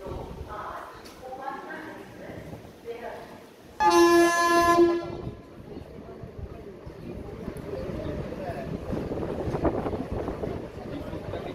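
A train arrives at a station during heavy rain, sounding one loud horn blast partway through before a rolling rumble of the cars builds. People talk nearby.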